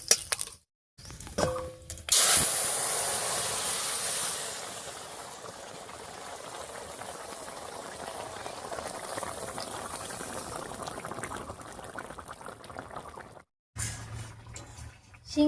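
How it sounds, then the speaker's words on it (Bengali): Shing fish broth splashes onto a hot tempering of whole cumin, bay leaf and dried chilli with a brief loud rush, then settles into a steady, close bubbling boil. "একবার মাছের ঝোলটা দিয়ে দিচ্ছি এর উপরে"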